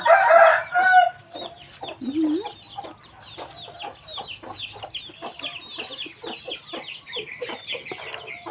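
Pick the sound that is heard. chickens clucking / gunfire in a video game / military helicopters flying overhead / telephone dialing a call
chickens clucking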